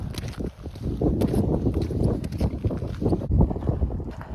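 Strong wind buffeting across open Rannoch Moor moorland, loud gusty rumbling that keeps rising and falling right against the listener, with no voices.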